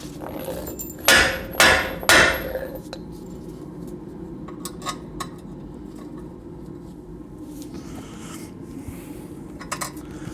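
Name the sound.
hammering something in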